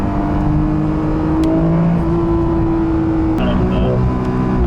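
Porsche 992 911 engine revving from 5,000 to 7,000 rpm, a loud steady exhaust drone that climbs in pitch, with a brief voice under the engine noise.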